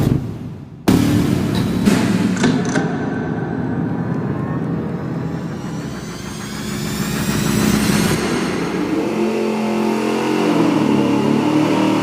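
A chambered Summit 2-chamber muffler with no packing, fitted to an engine running on a dyno, gives a loud, sustained engine roar. The engine rises and swells in revs partway through, then holds a steady drone.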